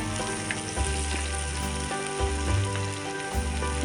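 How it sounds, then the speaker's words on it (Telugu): Tomatoes with chilli and coriander fry in a pan while being stirred, giving a steady close sizzle with a few low scraping thumps of the spoon and no talk. "ఇప్పుడు ఇందులోకి టమాటాలు వేసుకుందాం చిన్న కారం పెట్టుకున్న టమాటా కొత్తిమీర కూడా వేసేసుకుందాం వేసుకొని కలుపుకుందాం"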